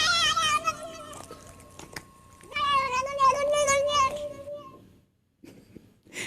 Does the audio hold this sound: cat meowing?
yes